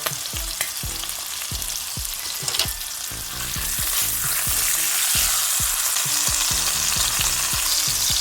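Chuck roast browns in a hot pan over medium-high heat, giving a steady loud sizzle and crackle with sharp pops, intensifying and filling in after a few seconds.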